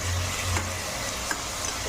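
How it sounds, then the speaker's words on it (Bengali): Spice masala fries in hot oil in a home kitchen, giving a steady, close, dense sizzle that holds evenly for a couple of seconds with no talking. "এবার মশলাটা ভালোভাবে ভেজে নেব।"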